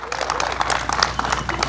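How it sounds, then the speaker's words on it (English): A scattered, polite round of clapping from a modest audience at a civic homeowners event, individual claps distinct and uneven rather than a full ovation, with some talk underneath. "you know that's a golf clap"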